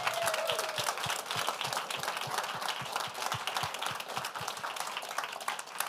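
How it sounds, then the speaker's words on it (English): An audience claps for a guest at a corporate speaker-series event, a dense, steady round of applause that keeps up throughout at fairly close range. "Let's give him a round of applause."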